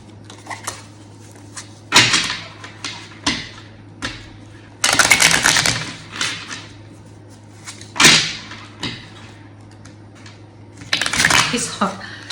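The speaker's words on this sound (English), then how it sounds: "These cards are so hard to shuffle." Stiff plastic tarot cards being shuffled up close, in a run of irregular papery riffles and slaps, with several louder bursts spread across the stretch.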